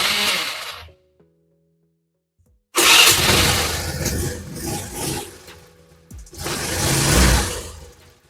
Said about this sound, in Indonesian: lalu kita hidupkan mesin dengan starter